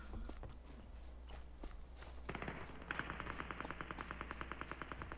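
Gunfire from the PC battle royale Super People comes from off to the west, heard as a steady rapid train of shots over soft footsteps and movement noise.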